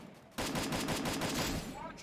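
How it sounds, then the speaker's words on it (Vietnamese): A loud sustained burst of automatic gunfire from the SIGMAX survival shooter video game, starting abruptly after a short quiet moment and rattling in fast, even shots close by. "Vừa nghe thì tiếng súng"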